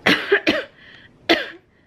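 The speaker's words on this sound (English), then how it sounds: "pardon all this coughing" Three harsh coughs close by, two in quick succession and a third after a short pause, with a faint throaty rasp trailing between them.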